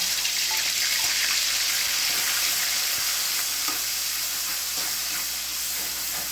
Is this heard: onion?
yes